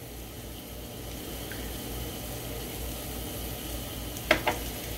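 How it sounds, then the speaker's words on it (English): Mushrooms sizzle in a hot pan while cooking sweet onion burgers, a soft steady hiss running throughout with two brief sharp crackles near the end. "All right, so we got our mushrooms in there. You can hear the sizzle."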